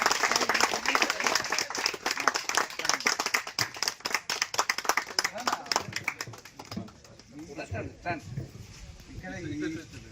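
Outdoor village gathering in a colony where a crowd claps in rapid, loud bursts, then the clapping thins and fades as voices and chatter take over.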